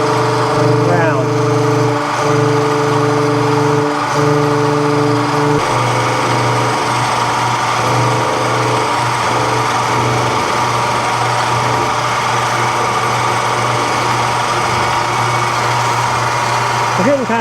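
A lathe turns aluminum hex round stock for an AN fitting, a loud, steady motor hum with tonal whine throughout and a shift in texture partway as cutting begins.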